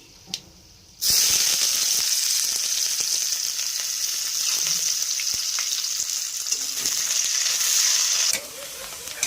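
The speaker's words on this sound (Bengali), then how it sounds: "এবারে দিয়ে দেব পেঁয়াজ কুচি" Chopped onion lands in hot oil in a pan and bursts into a loud, close sizzle that holds steady with occasional stirring clicks, then drops back to a quieter fizz.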